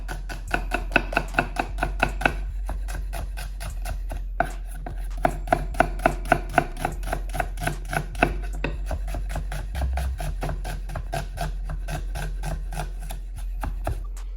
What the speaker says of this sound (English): We'll slice 1 red onions now.